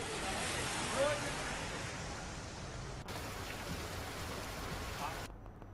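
Heavy monsoon rain falls in Gurugram, a dense, steady hiss of downpour with no breaks, fairly faint and continuous, cut short near the end.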